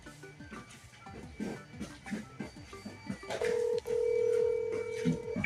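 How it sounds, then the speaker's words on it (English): A phone call being placed, with a series of short electronic keypad tones followed by a steady ringback tone pulsing twice, faint and close, under low background noise and a bit of voice. "when I call Phil, you can see that."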